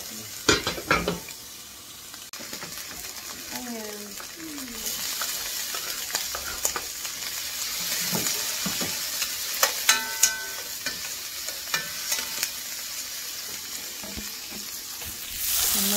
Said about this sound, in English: And let those fry up.